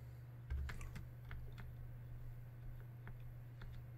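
Computer keyboard keys pressed for shortcuts while working in Unreal Engine 4, a few scattered clicky taps close by over a steady low electrical hum.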